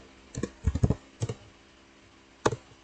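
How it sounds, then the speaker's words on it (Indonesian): Typing on a computer keyboard while entering a password on Cisco networking equipment: a few sharp, close key clicks in short bursts, with a final separate keystroke after a pause, no talk. "Ini kita masukkan passwordnya 123 enter."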